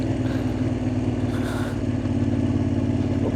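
Moto Guzzi Griso motorcycle engine heard while riding, a steady mid-pitched throb with a rhythmic pulse and a slight swell near the middle, loud and close with no talk.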